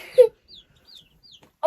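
Newly arrived baby chicks peep in a few thin, high chirps spaced across a quiet moment, close by, with brief louder handling or voice sounds at the start and end.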